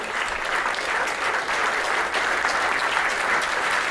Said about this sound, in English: Please, if I may ask another round of applause.